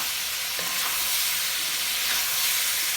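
Korean-style stir fry sizzling loudly in a hot pan as a chili sauce mixture is stirred in, a steady close hiss and crackle with faint scraping throughout.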